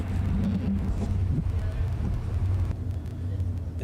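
A race car rumbles at a drag racing track during a bracket racing event, a low, continuous engine drone at some distance under talk, easing off near the end.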